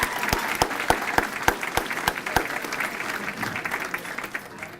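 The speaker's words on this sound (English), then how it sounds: "another round of applause" Applause rises from the audience at a Boys & Girls Club gala. A few distinct loud claps up front lead into looser, scattered clapping that gradually fades.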